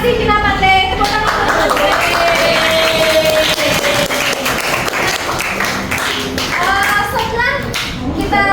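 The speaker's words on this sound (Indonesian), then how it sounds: "Tepuk tangan." A grade six classroom claps for a student, a loose patter of children's hands mixed with young voices and an adult talking over the noise.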